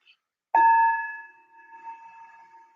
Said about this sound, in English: notice how the sound of the bell itself